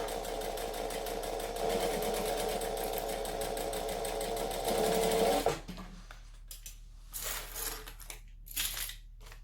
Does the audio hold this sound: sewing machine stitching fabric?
yes